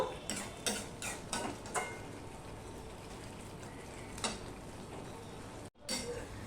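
A pan of bitter gourd curry sweetened with sugar bubbles and simmers with a steady, soft background hiss, while a few sharp utensil taps and scrapes against the pan break through at intervals.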